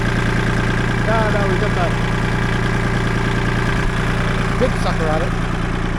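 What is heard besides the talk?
tractor engine running while lifting a log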